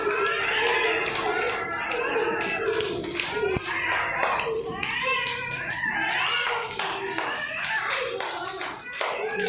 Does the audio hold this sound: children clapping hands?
yes